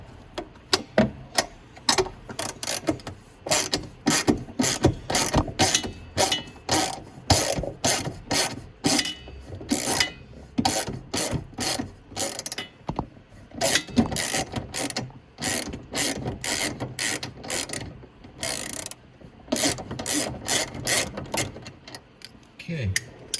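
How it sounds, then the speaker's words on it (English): A 13 mm ratcheting wrench works a bolt on the body kit of a Venom 125cc mini jeep, with close, loud bursts of rapid clicking repeating in strokes with brief pauses throughout. "So we can put the 13 wrench up on top."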